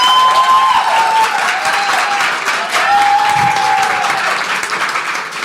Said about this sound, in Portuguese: Vamos dar uma salva de palmas para a Karina?